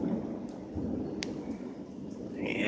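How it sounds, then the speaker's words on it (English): Thunder rolls in a steady low, distant rumble during a severe thunderstorm, with faint rain and wind noise and a couple of brief sharp crackles. "You can hear that intense roaring of thunder."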